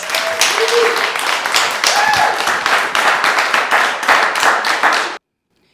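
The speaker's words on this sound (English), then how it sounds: "Let's give him another round of applause." A small audience at a children's poetry reading claps steadily for a young poet, with lively, even rhythm that stops abruptly at the end.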